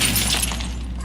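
Window glass shattering in the video game LA Noire: a single loud crash of breaking glass at the start, with fragments tinkling and fading away over about a second.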